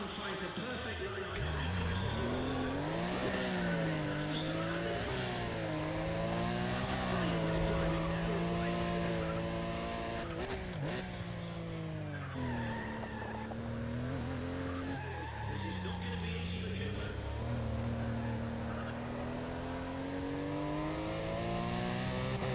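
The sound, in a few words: race car engine with turbo lag in video game NFS ProStreet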